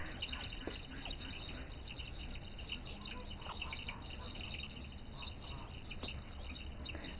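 Poultry chickens call and chirp steadily inside a winter coop after fresh bedding is spread, with a dense chorus of overlapping high notes and a couple of sharper squawks standing out.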